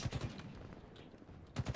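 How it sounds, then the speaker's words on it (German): Rapid automatic gunfire in Halo Infinite multiplayer, bullets fired through a tree: two short, close bursts of about three shots each, separated by a quieter stretch of game ambience. "Gut, ich kann durch den Baum durchschießen"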